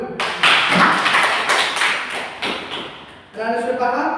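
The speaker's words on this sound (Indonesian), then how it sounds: "Tepuk tangan dulu." A classroom of children claps hands in a burst of loud, uneven applause with shouting voices mixed in, fading briefly before a short rhythmic clap pattern.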